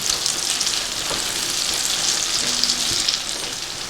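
Ginger garlic paste sizzles loudly in a hot pan of oil while Bengali potoler dorma is cooked, a dense, steady crackling hiss that runs unbroken, with a faint clink near the end.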